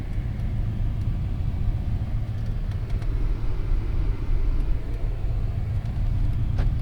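A 2021 Porsche 718 Cayman T drives along, heard from inside as a steady, even low engine and road rumble with no talk.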